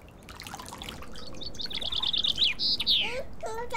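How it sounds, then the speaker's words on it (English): A bird gives a run of bright, close chirps and tweets, rising into quick rapid trills near the end, over a soft trickle of water. "The bird tweets."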